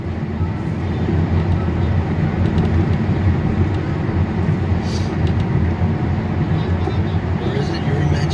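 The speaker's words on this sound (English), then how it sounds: "we have a train coming our way." A steady, heavy rumble of an approaching BNSF train on the Staples Subdivision beside US Highway 10, loud and continuous with a deep low drone throughout.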